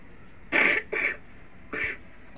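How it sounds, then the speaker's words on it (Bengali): A child coughs three times in short bursts, two close together and then one after a brief pause, close to the microphone with no other sound. "এটার কাশি হয়েছে, ওষুধ খাইতেছে।"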